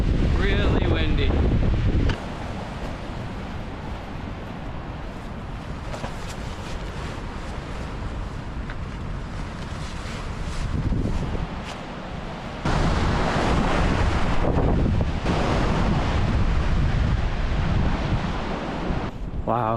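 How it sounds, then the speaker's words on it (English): Strong wind roars across a Patagonian lake whipped into whitecaps, buffeting the microphone in heavy, continuous gusts that surge louder and ease in waves. "Really windy."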